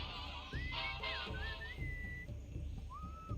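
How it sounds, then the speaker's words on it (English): Whistling sound effect from the Sam and Max video game: a few short, clear sliding whistle notes rising and falling in quick succession, fairly close and alone, with no speech. "Whistling sound."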